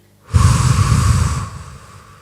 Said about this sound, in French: Prends une grande inspiration par le nez. Expire par la bouche.